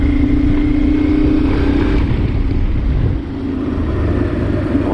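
Honda Transalp 600 motorcycle engine with a recently worked carburettor runs loudly and steadily up close, a dense low rumble with a brief tonal whine early on and a slight dip in level near the end, no talk.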